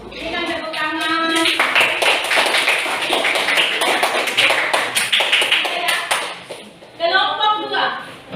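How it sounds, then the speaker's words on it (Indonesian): Junior high school students in a classroom break into a burst of clapping lasting several seconds, dense and fairly loud, with voices talking just before and after. "Berikan tepuk tangan."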